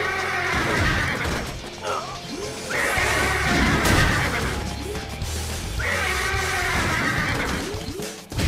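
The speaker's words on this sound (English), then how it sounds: "for an enormous horse who's often described as being about the size of an elephant, Kokuo's got mad ups." Enormous elephant-sized horse Kokuo whinnies and leaps in the Fist of the North Star: Ken's Rage 2 video game, loud repeated neighs over crashing impacts and thuds with game music underneath.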